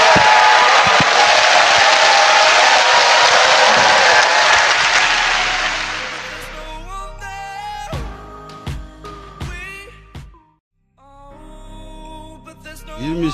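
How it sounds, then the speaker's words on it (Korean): A talk-show audience in Korea breaks into loud, full applause mixed with some cheering for about six seconds, then it fades out as music takes over. "박수 부탁드립니다."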